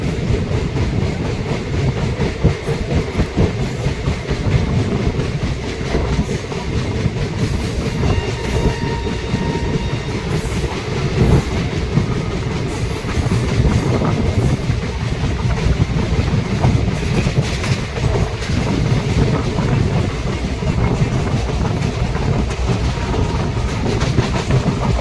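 The Sahid Express runs from Rampurhat toward Howrah, heard from on board as a loud, continuous rumble with rapid rhythmic wheel clatter on the rails, steady and close throughout.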